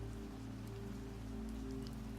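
Rain falls steadily on a surface, a continuous soft patter with no pauses, accompanied by a low constant hum underneath.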